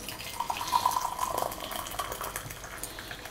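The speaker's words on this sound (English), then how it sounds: "Pour some hot water into the mug to preheat it." Hot water trickles and splashes steadily into a mug for a few seconds to preheat it, a soft close liquid pour with no voices.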